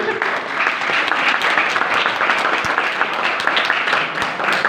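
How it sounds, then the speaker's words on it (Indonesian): An audience at a religious study gathering held in the tax office in Situbondo breaks into loud, dense applause, a continuous roar of many hands clapping throughout, close and full. "Tepuk tangan untuk Pak Kurniawan ini."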